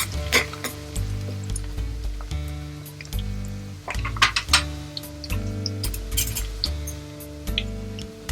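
Onion frying in a pan until lightly pink, a steady sizzle with clinks and scraping of a spoon stirring against the pan, over a steady humming tone in the background.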